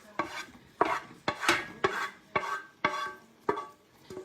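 Chopped onions stirred into a butter roux in a pot, a spoon scraping in about seven distinct rhythmic strokes with a soft sizzle beneath, close and moderately loud, no talking.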